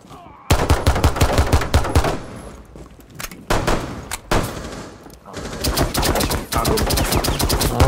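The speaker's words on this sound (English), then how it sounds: "Who's shooting?" Loud rapid automatic gunfire in Rainbow Six Siege, long bursts of dense rattling shots broken by short pauses and a few single cracks, close and dominant.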